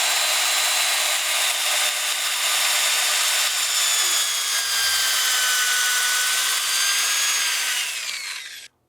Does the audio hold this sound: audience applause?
no